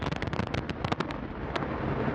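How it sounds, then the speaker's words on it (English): A thunderous roar with rapid crackling bursts as an Antares rocket's engines ignite at liftoff, settling into a steady heavy rumble. "we have liftoff of Antares, the new Orbit 3 mission"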